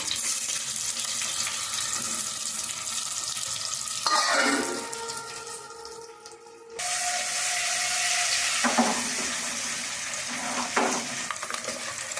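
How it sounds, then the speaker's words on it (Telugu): Eggs with turmeric stirred and frying in a hot pan at home, giving a steady close sizzle with scraping stir strokes, a brief drop in the frying noise midway, then sizzling resumes with more spatula scrapes. "గుడ్లు అయితే ఇది ఇదిగో నేనైతే ఇలా తిప్పుకుంటున్నాను"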